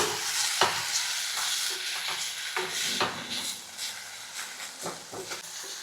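Tamarind fries in hot oil while a spoon stirs it, producing a steady close sizzle broken by intermittent scraping stirs, with no one talking.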